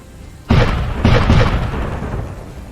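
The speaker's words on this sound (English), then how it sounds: "You hear the cannons fire." Pirate-ship cannon fire effect played during a tabletop role-playing game, a loud close boom followed by two more overlapping blasts that roll on into a long rumbling tail.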